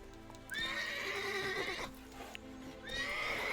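Roach the horse in The Witcher 3 gives two loud whinnies close by, a long shrill neigh falling away and then a second one rising at the end, over soft hoof sounds.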